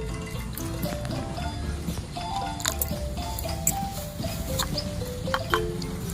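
Water poured and stirred into a toy cooking pot, small wet squishes, drips and clinks close by, with faint talk in the background.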